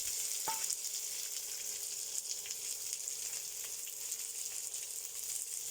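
Chopped onion sizzles in hot ghee. The frying hiss is steady and close, with a single utensil clink near the start and no speech.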